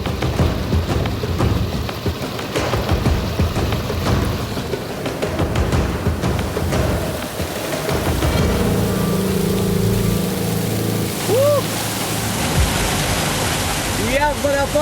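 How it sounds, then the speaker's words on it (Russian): Victoria Falls roaring, a dense continuous rush of falling water like heavy rain, loud and unbroken, with faint voices and other sounds mixed in. "Я в водопаде смотрю на водопад."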